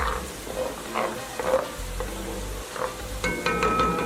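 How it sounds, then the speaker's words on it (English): Onions frying and browning in a pot for a Ghanaian vegetable stew, a continuous close sizzle with intermittent stirring scrapes and a few sharper clinks near the end. "our onion is beginning to brown up. So we're still going to let it brown before we add the rest of our ingredients"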